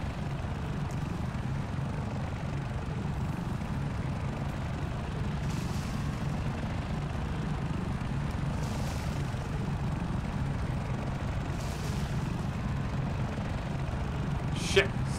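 An aircraft landing in the video game Exile: a steady, loud propeller-like drone continues throughout, with a few faint higher clicks near the end.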